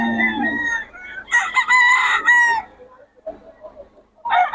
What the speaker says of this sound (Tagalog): Kaubos na yung mga lakas na ni Boss Tony ngayon sa mga manok.